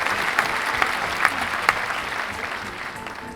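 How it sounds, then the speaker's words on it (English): Steady, pleasant audience applause fills the whole stretch at an even level, a bright wash of many hands with a few sharper claps standing out near the start, tapering slightly at the end. "I'll say pleasant applause as well."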